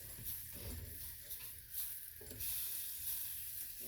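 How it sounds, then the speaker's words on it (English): Butter melts in a hot pan on a stove burner, giving a steady soft sizzle and hiss with faint crackles throughout, fairly quiet and with no talking. "I've got that butter melting in this pan"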